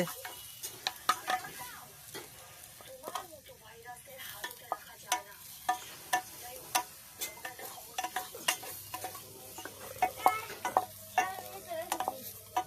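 Food is stirred and frying in a small toy kitchen pan, with a string of sharp, light ticking clicks from the utensil over a faint sizzle, irregular and close for several seconds.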